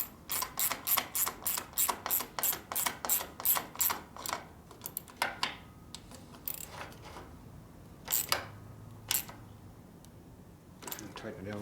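A ratchet tightens parts on the top end of a 1958 Harley-Davidson panhead 74ci motor. About a dozen sharp, evenly spaced clicks come close by, then slow into scattered clicks with pauses between them.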